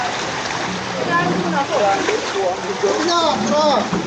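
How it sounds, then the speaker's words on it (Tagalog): A strong river current rushes steadily past, a broad continuous wash of water, while people talk nearby over it. "Ang lakas ng agos dito, grabe."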